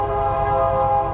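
A train horn sounds as one steady, tonal blast in an RV park setting, clear and moderately loud for just over a second.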